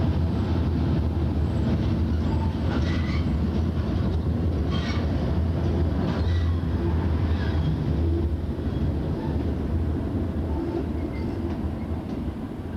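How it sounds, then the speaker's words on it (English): Janus diesel-electric shunting locomotive built by the Yorkshire Engine Company, working a coal line, heard as a steady loud low engine rumble with rail noise and some wind, no voices. "A Janus diesel-electric locomotive built by the Yorkshire Engine Company shatters the silence for our swan"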